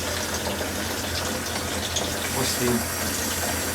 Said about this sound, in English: And turn the water back on.